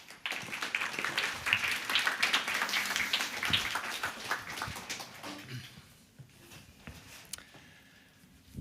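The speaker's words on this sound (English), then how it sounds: "Please give them a warm applause." Conference audience in Oslo applauding presenters at a game audio event, a steady wash of many hands clapping that swells, then thins and fades away toward the end.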